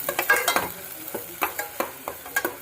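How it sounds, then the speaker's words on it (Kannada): Chopped onion frying in a pan for a village-style chicken curry, quick repeated spatula scrapes and taps over a soft sizzle, close up and rhythmic, with no talk. "ಒಂದು ಉಳ್ಳಾಗಡ್ಡಿ ಸಣ್ಣ ಎಜ್ಬಿಟ್ಟು ಹಾಕ್ತಾಯಿದ್ದೀನಿ"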